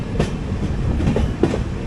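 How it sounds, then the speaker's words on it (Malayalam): A passenger train rake rolls past on the rails at Kollam Junction, giving a loud, close rumble with a few distinct wheel clacks on the track joints. "ഇതൊരു പാസഞ്ചർ ട്രെയിൻ റേക്കാണിത്"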